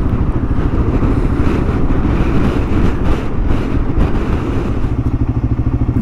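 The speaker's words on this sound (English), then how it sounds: "The wind nearly blew my bike over then." Strong gusting wind roars loudly and continuously around a Kawasaki KLR 650 motorcycle on a trip in Tasmania, with a heavy low rumble buffeting throughout and nobody speaking.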